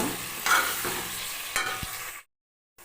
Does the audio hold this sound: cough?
no